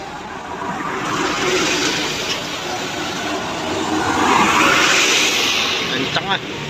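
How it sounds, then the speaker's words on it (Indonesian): A coconut truck passes along a road, its broadband engine and tyre rumble swelling as it draws near and then fading slightly, with a short horn-like tone near the end. "Truk kelapa."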